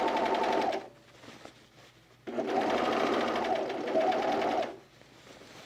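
A sewing machine stitches fabric in two quick bursts separated by a pause, its rapid mechanical whir loud and close, with the upper thread out of the tension disc.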